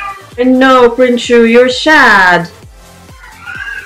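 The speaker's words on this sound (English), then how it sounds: "And that's my cat." A cat meows a few times up close, drawn-out and whiny, while a person talks softly over and between the cries.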